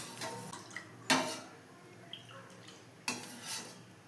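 Ragi porridge is stirred in a pot, with a few scraping swishes and soft clinks of a utensil against the metal rim, spaced out and fairly quiet.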